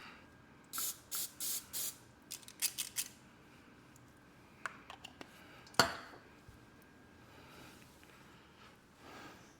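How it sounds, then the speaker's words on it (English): Several short hissing bursts of vegetable oil cooking spray sound up close in quick succession, followed by scattered light clinks and taps. "I'm going to spray it with some vegetable oil spray over here."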